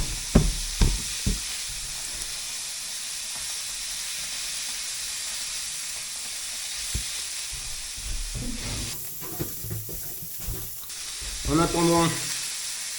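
Pork knuckle sears in a hot pan, making a steady sizzle and hiss that runs throughout, with occasional clinks and stirring knocks and a brief louder scrape near the end.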